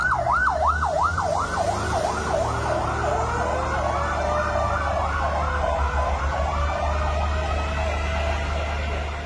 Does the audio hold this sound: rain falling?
no